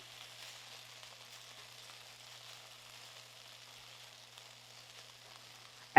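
Beef sizzling as it crisps in a pan for crispy orange beef, a steady soft hiss of frying throughout with a faint low hum beneath, and no one talking.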